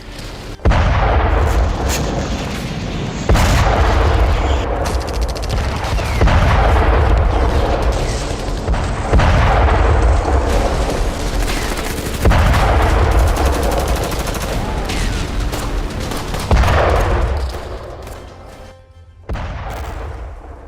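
Heavy booms and rolling explosions from Israeli airstrikes on Gaza sound loud and close, with repeated blasts and crackling gunfire spread across the stretch and only brief lulls between them.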